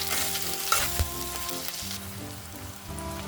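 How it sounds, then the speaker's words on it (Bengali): Three grated garlic cloves with a little ginger frying in a pan, a close steady sizzle with soft spattering, and a faint tap near the start. "এখানে আমি 3 কোয়া রসুন দিলাম"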